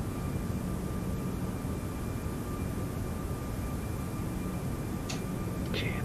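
Toliss A340-600 airliner engines in the X-Plane 12 flight simulator, a steady broadband roar and rush that holds constant at fairly high level, with a couple of brief faint clicks near the end.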